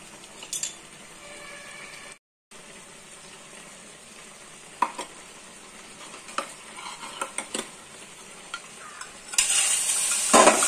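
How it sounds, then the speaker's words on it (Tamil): Butter melts in a pan on a stove for homemade ghee, a faint continuous sizzle with scattered clinks and scrapes of a utensil against the pan, a brief gap, then a louder hiss near the end. "எடுத்து வச்ச வெண்ணெய் போட்டு"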